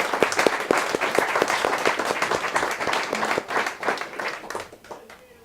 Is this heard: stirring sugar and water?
no